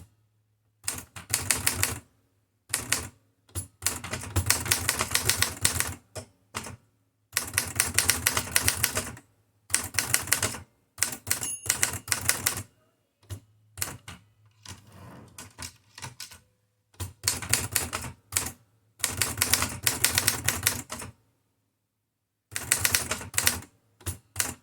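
Typing on a Remington KMC manual typewriter: bursts of rapid, crisp key strikes lasting a second or two each, broken by short silent pauses, close and loud with no voices.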